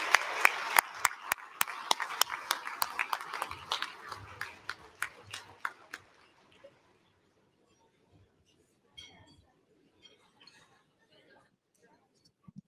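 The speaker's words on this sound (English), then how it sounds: "give yourselves a round of applause" Applause at a scholarship gala: a burst of sharp hand claps from a small crowd thins out over about six seconds, followed by a few scattered claps and faint rustling in near quiet.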